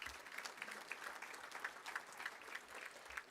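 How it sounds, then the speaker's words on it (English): Moderate applause from a banquet audience at the Indiana Basketball Hall of Fame awards, steady clapping with individual claps standing out, heard from a slight distance. "a round of applause for your 1A champs 25 years ago"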